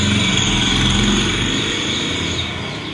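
Motorbikes pass by outside a home, producing a steady engine drone that swells and then gradually fades as they move off, with no talking.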